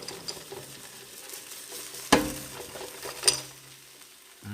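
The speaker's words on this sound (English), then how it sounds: "Alright, our tofu is about halfway done. Let's open it up and give it a shake." Half-cooked tofu being shaken in its cooking vessel gives a soft, steady sizzle, broken by two sharp clattering knocks close by. No one speaks.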